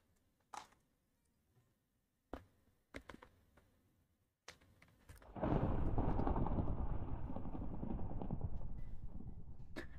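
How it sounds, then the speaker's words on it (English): Minecraft thunderstorm: after a few sharp game clicks, a heavy roll of thunder bursts in and rumbles on loudly and continuously, slowly fading. "It's a long thunderstorm."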